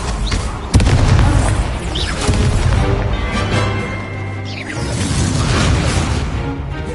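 Incendio fire spell blasts in the Hogwarts Legacy video game: a sharp booming burst followed by roaring, crackling flame and explosive rumble, loud and sustained with a second swell of fiery noise near the end.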